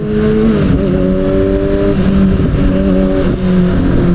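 A loud Kawasaki Ninja ZX-6R motorcycle with an Akrapovic exhaust revs steadily with strong harmonic tones, dipping briefly and climbing again, close by and without any talking.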